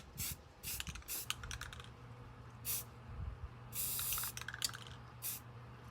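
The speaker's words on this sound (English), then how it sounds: "So we're spraying it white." Several short hissing bursts of a white spray paint can on a tumbler, irregularly spaced, with quiet clicks and low hum in between.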